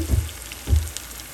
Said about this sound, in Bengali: আর এক চা চামচ রসুন পেস্ট দিয়ে দিলাম একটু হালকা একটু ভেজে নিচ্ছি